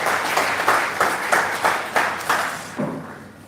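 Audience applause for a World Bank vice president at a university event in Abuja, a broad wash of clapping from a crowd with rhythmic surges, fading toward the end.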